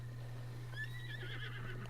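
A black horse in Zelda Breath of the Wild gives a single whinny midway, fairly faint over a steady low electrical hum and game ambience.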